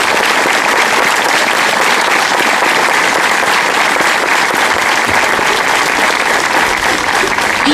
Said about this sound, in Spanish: merece el aplauso de todos nosotros